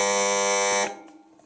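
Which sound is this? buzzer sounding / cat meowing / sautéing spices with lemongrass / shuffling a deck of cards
buzzer sounding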